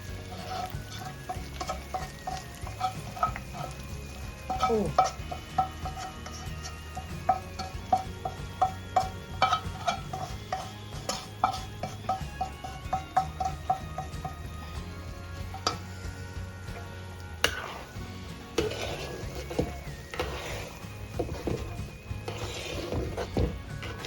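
Sambal tumis sizzles in a pan while a utensil stirs and scrapes it in frequent, irregular clinks, with steady frying crackle underneath and louder stirring toward the end.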